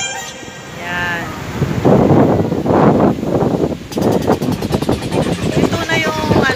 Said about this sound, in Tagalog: ito na ulan, pero malakas ang hangin